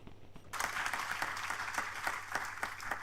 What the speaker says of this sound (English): Drs. Malhotra and Dr. Malone, a round of applause.